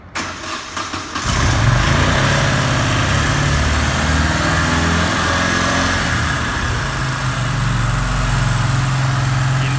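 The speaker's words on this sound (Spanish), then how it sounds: "Y vamos a darle al botón de arranque." A Moto Guzzi Quota 1100 ES motorcycle engine cranks briefly and fires up, then settles into a loud, steady, close idle with a deep rumbling pulse.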